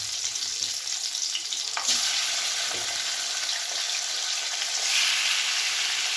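Chicken pieces fry lightly in oil with a steady, bright sizzle that runs the whole time, with a few soft stirring scrapes. No one talks.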